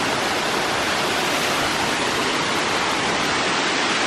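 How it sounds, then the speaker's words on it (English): A mountain waterfall roars in a dense, constant wash of white noise, close and loud, with no break across the short span. "I just climbed behind this waterfall."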